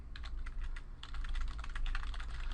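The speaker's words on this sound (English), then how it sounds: "I'm just typing stuff in here so you can see that" Quick, uneven bursts of key clicks from typing on a computer keyboard, close and distinct, with short pauses between runs and no talking.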